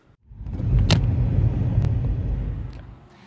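Car driving along a suburban road after tornado storm damage, with a steady tire and engine rumble that swells in and holds, plus a couple of brief sharp knocks, heard from inside or close by.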